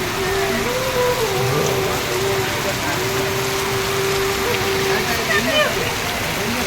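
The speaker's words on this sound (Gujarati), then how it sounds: "ધોધમાર વરસાદ ચાલુ છે." Heavy monsoon downpour over the pilgrim town of Ramdevra (Ranuja), with shops closing as it falls: a dense, steady roar of rain that runs without a break, with faint voices and other sounds mixed in.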